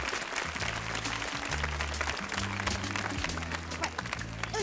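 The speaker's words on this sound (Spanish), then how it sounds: "Y un aplauso para Golfi también." A studio audience at a 1982 New Year's Eve television game show claps steadily while music with sustained low notes plays underneath, the applause dense and continuous throughout.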